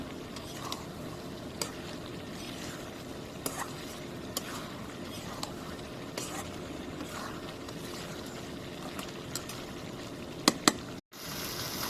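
Spiced hilsa fish curry being stir-fried in a pan, a soft continuous sizzle with periodic scraping clicks of a spatula every second or so, close and moderate in level, with no talking.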